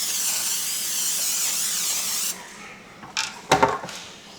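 A steady close hiss of cooking spray onto a cake pan for about two seconds, followed by a few brief clattering knocks and scrapes.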